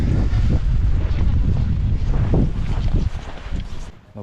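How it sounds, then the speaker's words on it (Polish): Strong wind roars across open terrain at the Jakuszyce ski meadow, buffeting the microphone in a loud, continuous rumble that eases slightly near the end. "tutaj na tym otwartym terenie strasznie wieje"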